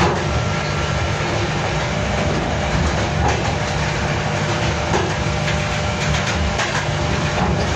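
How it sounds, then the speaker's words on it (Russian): Steady rumble of a ChME3 diesel locomotive hauling two passenger coaches, with continuous rail noise and faint clicking of wheels over track joints. "Тянет тепловоз Чмэ-3, и у нас два вагона."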